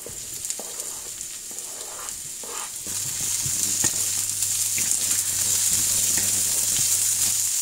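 Bell peppers and shallots sizzle in a frying pan. A soft crackle with a few light utensil clicks swells into a louder, steady hiss as the peppers are added.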